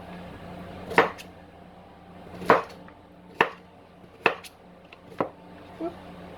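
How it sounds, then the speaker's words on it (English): A knife slices through food on a cutting board for a cheesy chowder bake, six distinct sharp chops at roughly one-second intervals, close and clear with no talk. "Just go ahead and slice it."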